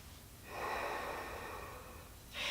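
Slow yoga breath in child's pose, a single long, soft airy exhale lasting about two seconds, followed by the start of another breath, faint and close.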